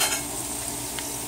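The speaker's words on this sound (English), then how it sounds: "so we have the garlic toasting a little bit" Garlic toasting in a pan for a lobster and shrimp curry, heard as a brief, steady sizzle with a light scrape of stirring, close and alone.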